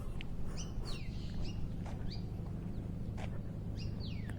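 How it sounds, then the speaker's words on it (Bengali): Birds chirping along a village road, several short bright tweets and rising calls scattered over a low steady background hum, fairly faint. "পাখি কিচিমিচি শব্দ শোনা যাচ্ছে"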